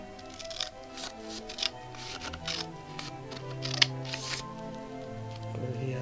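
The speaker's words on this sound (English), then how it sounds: "we can put them both together and cut them at the same time" Scissors snip through two layers of card stock for a shutter card with a series of faint, scratchy cutting strokes close by, heard without any talking.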